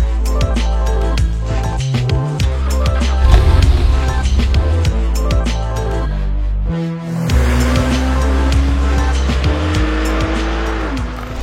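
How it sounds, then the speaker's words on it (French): A loud, high-revving Porsche 911 (997) Carrera S engine with busy mechanical roar, a brief dip near the middle, then rising and falling revs; tires squeal faintly. "C'est la Porsche 911."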